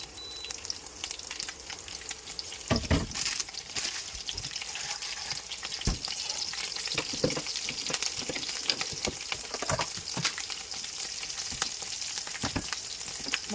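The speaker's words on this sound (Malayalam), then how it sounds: "ഇനി നമുക്ക് ഈ പച്ചമുളക് അതിലേക്കൊന്ന് എണ്ണയിലേക്കൊന്ന് ഇടാം." Green chillies fry in hot oil for a hotel-style coconut milk chicken curry, a steady close sizzle with occasional sharp crackles and pops, no voices.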